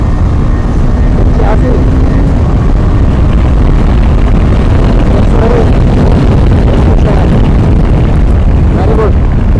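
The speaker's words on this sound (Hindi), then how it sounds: "थर्ड गियर 45 स्पीड और ये रेस दी मैंने" KTM Adventure 250 BS6 motorcycle accelerating hard through the gears on an open road, a loud, continuous engine roar with wind buffeting that rises in pitch between shifts.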